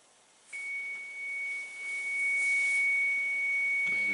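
A thin, steady electronic data tone plays from a CD while it is recorded onto cassette tape, a single high pitch breaking briefly at the start, then holding over a faint hiss, with a low rumble near the end.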